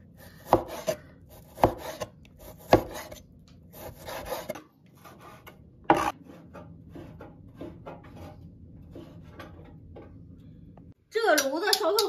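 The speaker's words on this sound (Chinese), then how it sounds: "切点肉丝儿" Knife cutting shredded pork on a cutting board, several sharp, close chops at an uneven rhythm early on, then quieter scraping and rubbing, with a voice speaking near the end.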